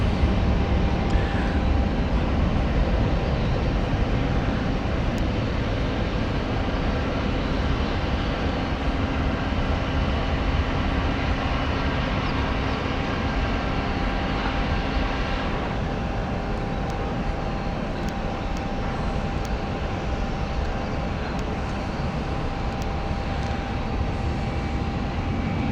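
An airliner on a Heathrow-bound Orlando flight passes overhead in London, a steady, continuous engine roar that stays loud and even throughout with a faint drop in tone partway through.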